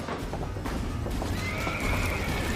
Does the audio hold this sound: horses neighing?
yes